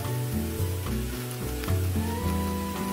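Oxtails hit a hot pot for Hong Kong style borscht, letting out a loud, continuous close sizzle with crackling and stirring, no voices.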